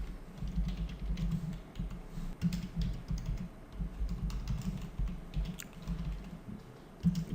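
Fingers tap out code on a computer keyboard in quick irregular bursts of soft, muffled keystrokes with brief pauses between them, close and quiet, alone without speech.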